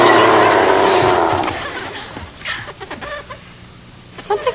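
A chicken clucks in short, scattered bursts after a stretch of loud voices, presented as an attack chicken in a children's TV comedy sketch.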